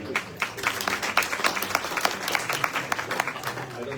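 An audience at a medical conference applauds before a talk, a dense patter of many hands clapping steadily for several seconds, with a voice audible beneath it.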